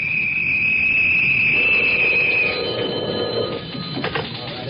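A telephone bell rings steadily as a 1946 radio drama sound effect, loud and continuous for a couple of seconds before it fades into a quieter room.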